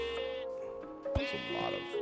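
A sheep in Minecraft bleats once up close, a short wavering game bleat, followed by a sharp click and a brief second tone, fairly quiet overall.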